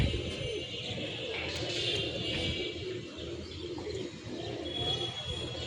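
A flock of homing pigeons, adults and young birds, coos softly and continuously in the background, with faint chirps mixed in.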